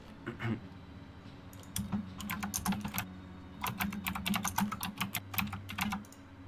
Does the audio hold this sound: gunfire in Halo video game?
no